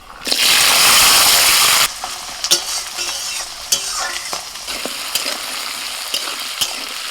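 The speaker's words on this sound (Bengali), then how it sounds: "ফোড়নটা হয়ে গেলে দিয়ে দিচ্ছি আলু আর মটর কড়াই" Potatoes and peas drop into hot mustard oil in a wok with a loud rushing hiss for about a second and a half, then settle into a quieter sizzle broken by sharp scraping and stirring clicks.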